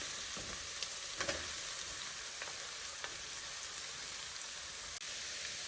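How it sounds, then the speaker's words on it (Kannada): Beans and carrots frying in a pan with capsicum being added, a steady close sizzle with a few stirring clicks and scrapes, and no talking. "ಈಗ ಬೀನ್ಸು ಕ್ಯಾರೆಟು ಸ್ವಲ್ಪ ಫ್ರೈ ಆಗಿದೆ. ಈ ಟೈಮಲ್ಲಿ ಕ್ಯಾಪ್ಸಿಕಮ್ ಕೂಡ ಆ್ಯಡ್ ಮಾಡ್ಕೊತಾ ಇದ್ದೀನಿ."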